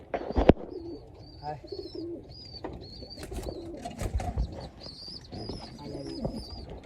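Pigeons coo repeatedly in a steady series of soft, throaty calls close by, with occasional wing flaps and a sharp thump near the start, plus faint chirps and rustling from the birds.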